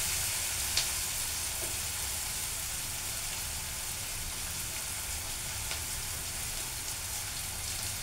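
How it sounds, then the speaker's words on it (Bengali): Onions and salt fry in a wok with a steady, even sizzle that runs without a break, with a faint clink near the start and no voices. "কড়াইয়ের মধ্যে আমি পেঁয়াজ এবং লবণ দিয়ে নিয়েছি পরিমাণ মতো। এটা একটু ভাজা ভাজা করে নেব"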